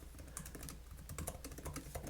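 Keys clatter on a computer keyboard as a custom file name is typed, a quick run of soft, close taps at an even pace, quiet and without talk.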